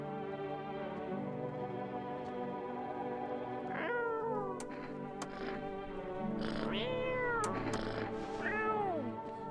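Cat meowing in the horror game No I'm Not A Human: several rising-falling meows, clear and close, over a steady droning music bed, with a cluster of repeated cries toward the end.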